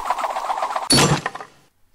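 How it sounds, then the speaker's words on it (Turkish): A video game goal effect resembling a glass bottle tossed into a bin: one sharp crashing clatter at about one second, following a softer rhythmic game tone, then fading to silence. "Böyle çöpün içine bir şey atar gibi, bir şişe atar gibi bir ses gelirse bilin ki gol attınız arkadaşlar."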